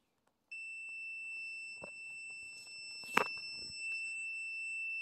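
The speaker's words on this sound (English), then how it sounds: "it will make a beep sound to confirm that it's a good circuit." A multimeter sounds a continuous steady beep while testing the continuity of a good circuit on an Ego electric mower, with a few light handling clicks and taps around it.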